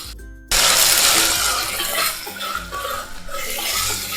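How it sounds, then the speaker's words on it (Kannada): Hot water is poured into a pan of vegetables on a kitchen stove: a sudden, steady rushing splash starts after a short pause and continues loudly up close, with faint clinks of cookware. "ಇವಾಗ ಬಿಸಿ ಮಾಡ್ಕೊಂಡಿರೋವಂಥ ನೀರನ್ನ ಹಾಕ್ತಿದ್ದೀನಿ."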